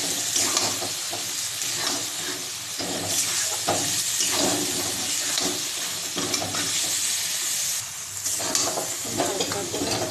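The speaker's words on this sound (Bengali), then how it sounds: "মশলাটা ভাজা ভাজা হয়ে গিয়েছে, এখন আমি পেঁয়াজ দিয়ে দেবো।" Chopped onions sizzle steadily in hot oil with fried spices in a pan for mutton curry, with occasional stirring scrapes and a constant bright hiss.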